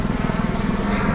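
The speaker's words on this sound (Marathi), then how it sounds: "हे बघा हेलिकॉप्टर" A helicopter passes overhead at a village temple fair in a forest setting, its engine and rotor making a steady, loud, unbroken drone.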